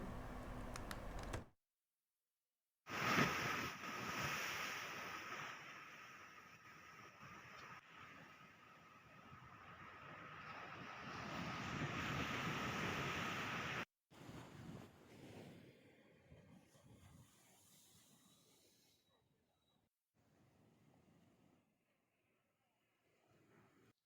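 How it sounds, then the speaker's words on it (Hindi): Strong wind and crashing sea waves at the Digha coast as Cyclone Jawad approaches, a loud, continuous roar with gusty buffeting on the microphone, then a brief cut and quieter, choppier surf and wind near the end. "दीघा और इसके आसपास के इलाकों में बारिश और तेज हवाएं चलनी शुरू हो गई है"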